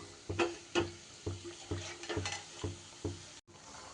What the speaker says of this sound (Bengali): এক এক করে বাকিগুলো আমি ভেজে নিই